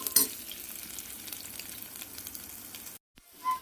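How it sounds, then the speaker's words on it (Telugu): Ginger garlic paste fries in a pan with a steady, soft sizzle and light stirring scrapes, broken by a short gap before the crackle returns. "అల్లం వెల్లుల్లి పేస్ట్ కూడా మంచిగా వేగిపోయింది."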